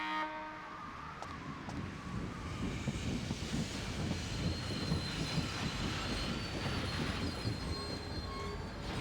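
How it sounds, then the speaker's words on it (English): The Blackstone Railroad train from the video game Dark Cloud 2 rumbles along with a continuous dense rattle of wheels and carriages and faint high squeals, heard steadily throughout without voices. "The Blackstone Railroad's back and ready for action."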